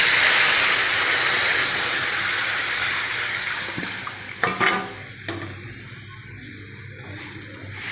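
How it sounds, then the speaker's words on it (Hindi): Spiced batter poured into hot oil with bay leaf and whole cumin, opening with a loud, dense sizzle and hiss that gradually fades, followed by a few sharp clinks and stirring scrapes as the bubbling settles. "तो हमने जो घोल तैयार किया है उसको इसमें डाल देते हैं।"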